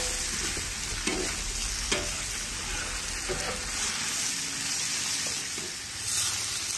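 Potatoes stir-fried in a wok for potato soup, a dense steady sizzle with scraping spatula strokes at intervals, close and fairly quiet, with faint background noise.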